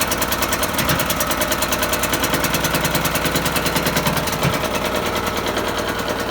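An old generator engine runs rough and uneven, its fast rattling firing loud and continuous throughout with irregular stumbles and knocks.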